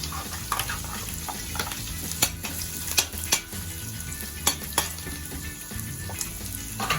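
Garlic sizzles steadily in a hot pan for chicken adobo, with a constant frying hiss broken by scattered clinks and scrapes as it is stirred.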